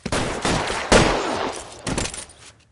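A police shootout in L.A. Noire erupts in close, loud bursts of gunfire, several rapid volleys of shots over about three seconds with no talk.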